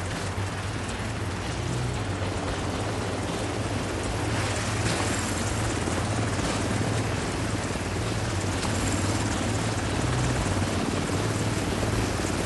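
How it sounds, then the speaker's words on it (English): A helicopter approaches in The Division 2, its loud rotor thrum filling the scene continuously and growing slightly stronger over time. "Helicopter incoming."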